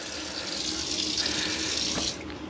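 Tap water runs steadily into a sink inside an RV in 10-degree winter cold, a continuous close splashing hiss that cuts off near the end.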